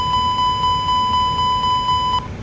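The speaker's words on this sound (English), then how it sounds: "Let's go ahead and do an engine test for the fire alarm." Cockpit fire alarm test on an A321XLR airliner in X-Plane 12, with a steady series of about nine evenly spaced high electronic beeps that cut off abruptly, alone without talk.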